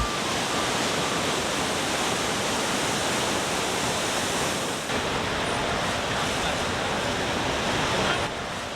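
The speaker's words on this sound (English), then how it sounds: "Niagara Falls is truly amazing." Niagara Falls roars as a dense, constant rush of falling water, a loud, unbroken wash of noise that holds steady throughout with no voices.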